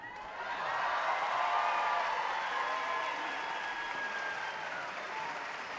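A concert audience at a UNAM anniversary performance by the Orquesta Sinfónica de Minería bursts into sustained applause, a broad rolling roar of many hands that swells quickly and holds, easing slightly toward the end.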